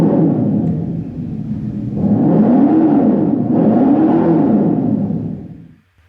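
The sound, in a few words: Dodge Charger Daytona EV Fratzonic synthetic exhaust sound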